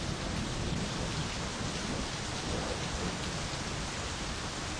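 Steady heavy rain pours in the video game My Summer Car, a dense continuous hiss with deep low rumbling of thunder underneath, constant and fairly loud throughout with no talking.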